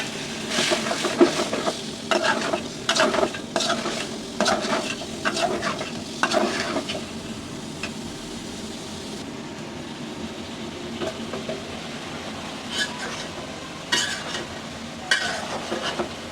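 Ridge gourd and vegetable stems dropped into spiced masala in a pan, stirred and frying with bursts of sizzling and scraping that come in clusters early, then settle into a steadier low hiss.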